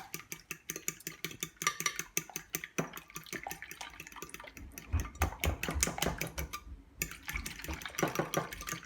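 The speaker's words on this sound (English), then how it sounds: "So crack the eggs and then you'll be whisking them, or beating them rather." Eggs are beaten in a bowl with quick, rhythmic clinking strokes, steady and close, with brief pauses between bursts.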